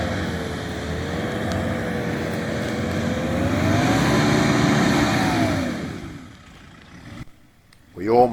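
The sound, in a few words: 4WD engine revving while reversing out of bog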